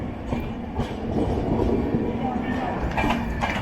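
The 16315 Mysuru - Kochuveli Express runs along steadily, a continuous rumble of wheels and carriage noise heard from on board, with faint clicks over the rails.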